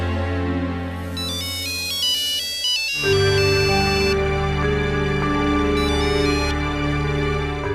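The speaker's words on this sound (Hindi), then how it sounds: "तुम फोन लगाओ आशु को।" A loud melodic phone ringtone plays alone, its electronic tune shifting partway through and repeating steadily, with no one speaking over it.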